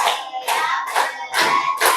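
A classroom of children clapping in short bursts of a counted clap chant, five close, loud rounds of rapid hand claps separated by brief pauses.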